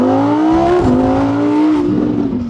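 A rented Evo sports car accelerates hard close by, its engine note climbing steadily with a quick dip at a gear change, loud and sustained throughout with no talk.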